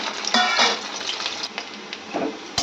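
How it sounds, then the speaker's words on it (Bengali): Garlic cloves with nigella seeds sizzle in hot oil in a wok, a steady close crackle with a few soft stirring scrapes and a sharp clink near the end. "ভাজা হয়ে গেছে রসুনগুলো"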